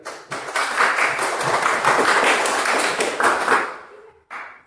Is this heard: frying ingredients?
no